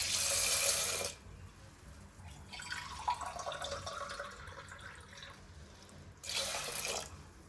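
Sago pearls are washed in water, opening and closing with loud bursts of tap water running into a bowl around quieter swishing and sloshing as the pearls are rinsed by hand.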